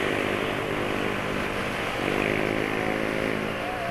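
A Yamaha NMAX scooter engine drones loudly and continuously, its pitch rising slightly partway through as it revs.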